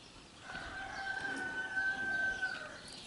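Chickens in a henhouse on a cold, windy day give one long, drawn-out crowing call in the middle, steady for about two seconds over a rushing, breezy background.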